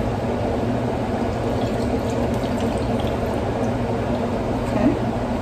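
Evaporated pet milk poured from a can into a cooking pan for macaroni and cheese, a steady, dense liquid pour with a low continuous gurgle lasting several seconds and no talk.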